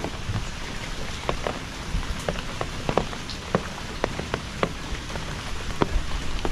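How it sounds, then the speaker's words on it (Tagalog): Steady rain patters down on an okra garden, a dense continuous hiss broken by sharper individual drops landing nearby on leaves and surfaces throughout. "Ay nako, ulan ka."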